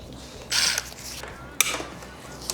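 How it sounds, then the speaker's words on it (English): Ratcheting breaker bar working a 12 mm bolt during a Subaru BRZ engine teardown, heard as two short bursts of metallic ratchet clicking close by, with a quiet gap between them. "a breaker bar that has a ratcheting option so you can, use it like a regular ratchet"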